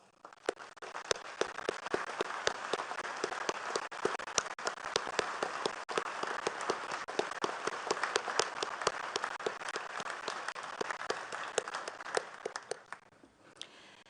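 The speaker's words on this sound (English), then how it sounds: "please join me in recognizing our veterans' national leadership with your applause" Audience at Arlington National Cemetery applauding veterans' national leadership, a sustained crowd of sharp individual claps building and holding, then tapering off near the end.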